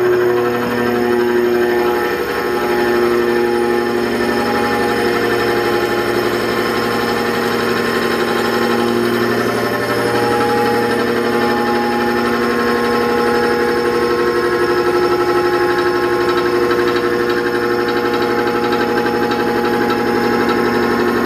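A machine tool runs steadily while cutting a new part for a printing press at about 726 RPM, giving a loud, continuous mechanical drone with a constant pitch and no pauses.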